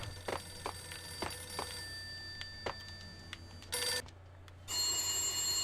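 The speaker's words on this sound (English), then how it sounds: "A beaten up phone in the entrance hall was ringing" An old, beaten-up telephone in an entrance hall of the Max Payne video game rings in short repeated bursts, fairly near and clear over a low steady hum, with a brighter, louder ring near the end.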